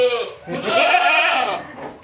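A Peranakan Etawa goat bleats on a goat breeding farm in Java, giving one loud, close, wavering bleat that swells and then fades within about two seconds.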